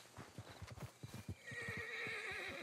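A horse in the video game Red Dead Redemption 2 clip-clops through a quick run of hoofbeats, then lets out a drawn-out neigh, all fairly faint.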